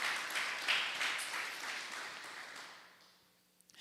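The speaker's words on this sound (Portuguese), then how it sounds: "Por favor, aplauda ele." Audience applause during a church sermon, a broad dense wash of clapping that is loudest early and gradually fades away over a few seconds.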